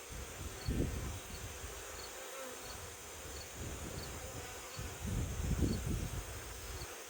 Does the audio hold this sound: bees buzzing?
yes